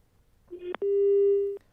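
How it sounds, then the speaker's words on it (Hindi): A telephone line goes dead after a caller drops off during a live Hindi TV debate call-in: a short tone, a click, then a steady, loud continuous busy tone holding for nearly a second before cutting off. "फोन कट गया है"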